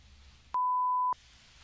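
One steady, pure censor beep lasts just over half a second over a spoken digit, with quiet room noise on either side.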